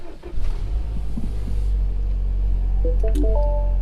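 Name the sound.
MINI Countryman S engine starting with push start button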